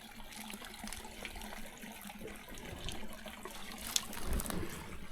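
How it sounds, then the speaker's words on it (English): A forest creek trickling and burbling steadily nearby, a continuous wash of moving water with small splashes, no voices. "That's the creek's wide right here."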